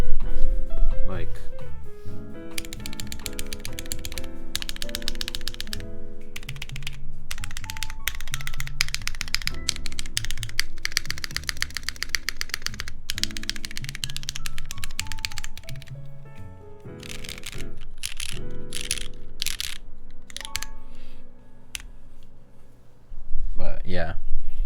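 Steady typing on a Thermal mechanical keyboard by RamaWorks, with rapid clacky keystrokes in continuous bursts and a few brief pauses, fairly close and clear throughout.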